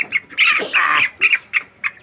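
Chickens squawk loudly and close by in several sharp bursts, the last few shorter, while the birds are being given water.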